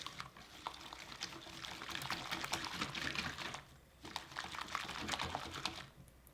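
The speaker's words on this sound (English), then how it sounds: "Give that a whisk." Pancake batter with vanilla extract and granulated sugar is whisked in a bowl, a rapid, close clicking and sloshing that runs in two bursts separated by a short pause.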